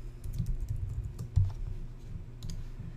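Typing on a computer keyboard: quick, uneven bursts of close plastic key clicks over about three seconds, alone without speech.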